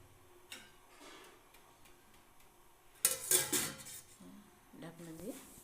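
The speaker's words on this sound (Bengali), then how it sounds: "ঢাকনা দিয়ে গ্যাস অন করে দেওয়া হলো" A lid set on a pot of white khichri brings a sharp metallic clatter midway, with faint ticks and clinks before it and brief tonal sounds from the gas stove at the end, in a quiet kitchen.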